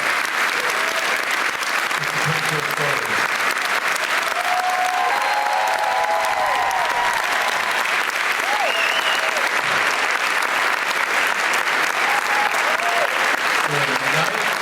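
Sustained applause from a large audience at an El Paso alumni celebration show, dense and steady clapping throughout with crowd voices and brief cheers mixed in.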